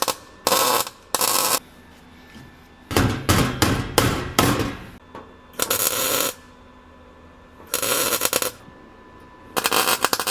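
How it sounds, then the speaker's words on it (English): MIG welding a replacement panel on a 1966 Ford Thunderbird, heard as short bursts of loud crackling buzz, some in quick stuttering tack pulses, separated by brief silences. "I'm gonna weld this like I do everything"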